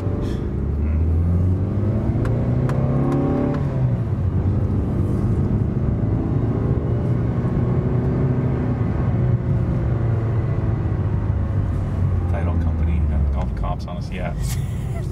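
A Mitsubishi Evo 8 with an aftermarket exhaust revs hard in a loud, close, continuous run, the engine note climbing, dipping and climbing again over about fifteen seconds, with a deep rumble throughout.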